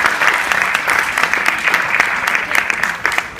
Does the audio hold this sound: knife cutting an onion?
no